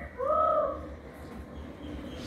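A single pigeon coo, a short rising-then-falling call near at hand, stands out at the start before fading into quiet background hum.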